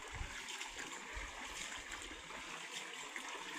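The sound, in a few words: small stream flowing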